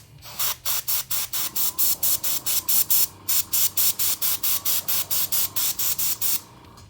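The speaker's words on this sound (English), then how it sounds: "We are doing a lot of airbrushing this stream" Airbrush spraying paint onto a miniature figure in short, rhythmic bursts of airy hiss, about two dozen quick pulses close to the mic with brief gaps between.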